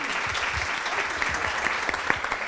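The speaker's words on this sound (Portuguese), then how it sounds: "Palmas para essas lindas." A crowd at a feminist public-policy forum claps for guests being welcomed onto the stage, a fairly soft, brief patter of applause with scattered sharper claps.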